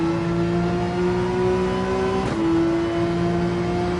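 Race car engine in Gran Turismo 7 holding a steady high drone, briefly dipping as the throttle lifts near the midpoint, then climbing again as it accelerates; loud and continuous with no voices.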